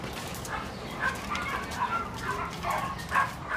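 A young, untrained rescue dog, excited to be out of its kennel, gives a run of fairly close, repeated yips and whimpering barks in short bursts.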